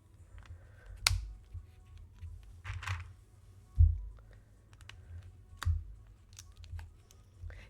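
Keyboard switches pressed into hot-swap sockets on a GDK Labs NV-70 board: several sharp, separate clicks and snaps spaced irregularly over a low, steady hum, close and moderately loud, with no talking.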